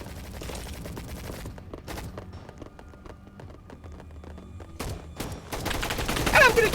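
Rapid gunfire from a video game gun fight in an arena, heard as quiet clusters of shots that thin out midway, then return as louder, denser bursts toward the end, with faint game sounds and some speech in the background.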